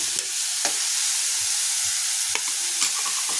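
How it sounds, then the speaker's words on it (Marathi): Finely chopped onion and green chili hitting hot oil for veg momos, a continuous close sizzle broken by a few sharp spatula scrapes, no talking. "तेल तापलं की आपण त्यात टाकायचं आहे कांदा आणि हिरवी मिरची जी बारीक चॉप करून घेतली आहे"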